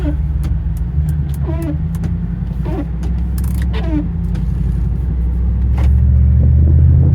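A 2010 Ford F150 Raptor pickup drives along with a steady engine rumble, its pitch rising and dropping a few times as the transmission shifts through the gears, heard from inside the cab.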